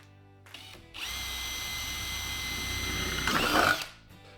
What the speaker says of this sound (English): We're going to drill a 6mm hole into Kate's lid to fit our check valve.